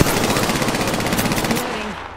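Rapid automatic gunfire in a video game, a close, fast, evenly spaced burst lasting about a second and a half before it tails off.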